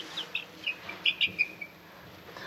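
Baby chicks peep in a scattered series of short, high chirps, close by, with quiet gaps between them.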